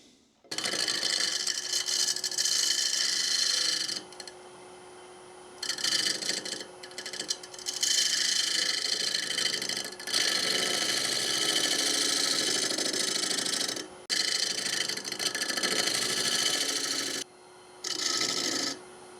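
A lathe tool cuts and smooths the inside of a bowl turned from a gnarly wooden block, giving a loud, steady rasping scrape in long passes with brief pauses between them.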